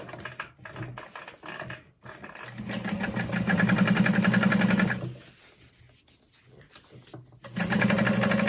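A sewing machine top-stitches waterproof canvas in several runs, a steady rapid mechanical hum that stops and restarts, with short pauses and faint handling noises between passes.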